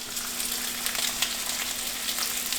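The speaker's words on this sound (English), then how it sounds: "we're gonna put our fennel to fry, along with our trumpet oyster mushrooms" Fennel and trumpet oyster mushrooms fry together in a pan with a steady dense sizzle and small crackles, close by and even throughout, with a faint low hum beneath.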